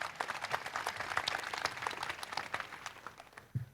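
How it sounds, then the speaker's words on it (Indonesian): Audience applause at an Indonesian panel discussion on the failures of the reform era, a dense, steady patter of many hands clapping close by for nearly four seconds, fading slightly at the end. "Tepuk tangan dulu buat Oki Mandasari."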